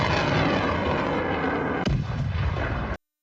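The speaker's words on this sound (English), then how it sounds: "The missile hits perfectly," A HIMARS missile strike sets off stored ammunition in a combat zone: a loud, continuous roar of blasts and rumbling explosions, with a sharp burst near the middle, carrying on without a break until it cuts off abruptly.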